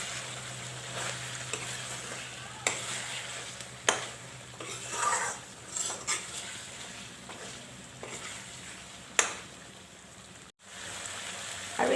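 Egg dum curry frying in a pan while a spoon stirs it, soft sizzling under intermittent scraping and knocks against the metal pan, fairly quiet and close, with a short gap near the end.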